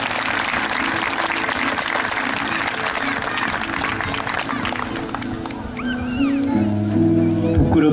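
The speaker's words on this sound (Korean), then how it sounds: "박수로 환영해 주시면 감사하겠습니다." An audience at a prayer service for reconciliation and peace on the Korean peninsula claps to welcome an elder speaker. The applause is moderate and steady, with voices and other sounds rising over it toward the end.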